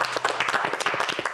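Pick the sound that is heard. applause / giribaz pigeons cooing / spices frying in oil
applause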